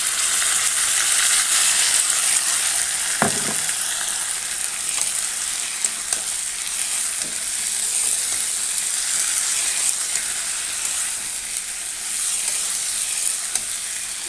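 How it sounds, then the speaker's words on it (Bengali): Vegetables and spice paste for a fish curry frying in a pan, a steady close sizzle running throughout with occasional soft clicks from stirring, no voices. "এবার ভালোভাবে সবজি মশলা ভালোভাবে কষতে দেব"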